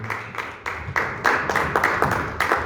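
A church congregation claps together in a steady, rhythmic beat, the sharp claps repeating about three times a second and growing slightly louder, with a low murmur beneath.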